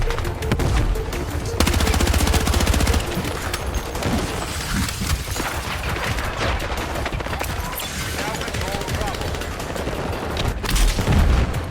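Intense Battlefield 6 combat fills the air with dense, continuous gunfire and heavy booms, explosions rumbling and structures crashing down in a chaotic, loud barrage that never lets up.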